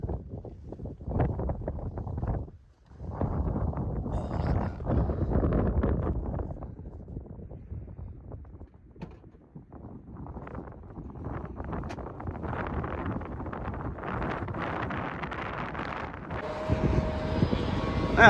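Strong gusts buffet the microphone on the summit of Scafell Pike, roaring and rumbling in uneven surges with a brief lull near the start, loud and close throughout.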